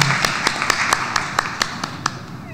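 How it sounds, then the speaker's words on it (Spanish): Sparse hand claps from an audience for a teacher ring out as distinct sharp slaps in a loose, fairly regular rhythm, close and moderately loud, about ten over a few seconds. "Un fuerte aplauso para el profe maestro también."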